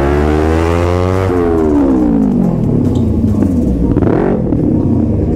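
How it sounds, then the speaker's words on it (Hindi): A Kawasaki ZX10R superbike's exhaust revs loudly and close, its pitch sliding down as the engine comes off the throttle, then rising briefly again. "Listen to the exhaust bro. Exhaust इसका बहुत बढ़िया है,"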